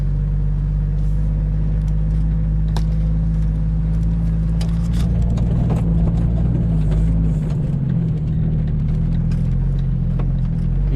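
Jeep Wrangler YJ engine pulling steadily while driving, a loud continuous low rumble with a slight rise in revs partway through and no talk.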